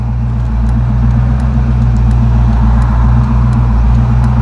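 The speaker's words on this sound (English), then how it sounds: "I'm just impressed with the car's idling. It's not trying to die on us." A 1989 Ford Mustang 5.0 with a Flowmaster exhaust idles steadily, a loud, deep, even burble that stays constant throughout with no voices.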